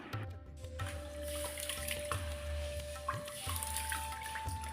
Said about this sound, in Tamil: இதை 2-3 முறை நல்லா தண்ணீர் ஊற்றி கழுவி எடுத்துக்கலாம்